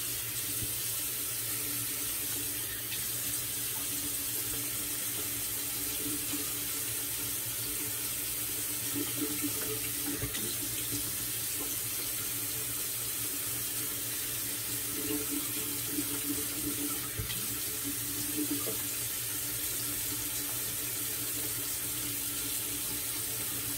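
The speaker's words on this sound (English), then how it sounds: "I just drown the knot with water to speed up the process here." Tap water runs steadily onto a shaving brush knot, a continuous close hiss of flowing water with no talking.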